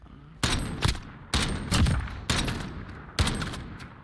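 Video game gunfight during a tournament: four distinct bursts of automatic fire spaced roughly a second apart, loud and close, each a quick run of shots with short pauses between.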